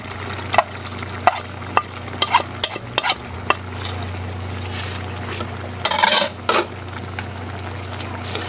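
Cabbage goes into a pan with softened chayote and is stir-fried, a steady sizzle under repeated sharp scrapes and clinks of a utensil against the pan, with a louder burst of sizzling midway, no talking.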